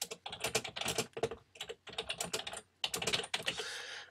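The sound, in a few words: typing text on a computer keyboard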